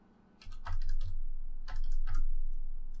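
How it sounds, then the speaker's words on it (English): Someone types a command on a computer keyboard: two quick clusters of crisp, close key clicks, with a faint steady hum behind them. "just simply type in version and hit enter"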